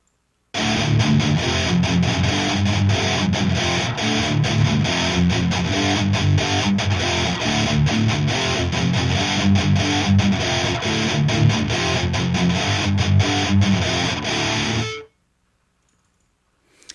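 Thick, distorted double-tracked electric guitar riffs play continuously and loudly for about fourteen seconds, then cut off abruptly into silence.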